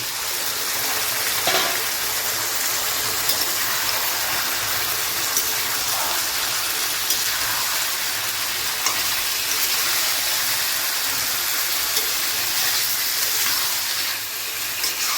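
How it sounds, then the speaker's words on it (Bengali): Unmarinated chicken fried in a pan with ginger, garlic and green chilli paste for Bihari chicken curry gives a loud, continuous sizzling hiss that stays steady and close for the whole stretch, with no talking. "এবার এর মধ্যে আমি চিকেনগুলোকে অ্যাড করে দেবো।"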